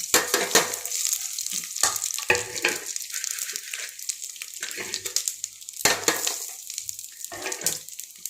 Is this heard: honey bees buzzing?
no